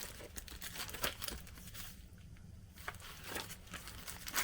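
Crinkling and tearing wrapping paper from a gift bag in a vintage estate-sale haul, with irregular rustling crackles and a few sharper bursts, moderately close and faint, without speech.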